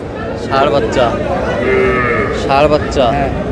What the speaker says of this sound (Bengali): এই বছরটা শাহিওয়াল ষাঁড় বাচ্চা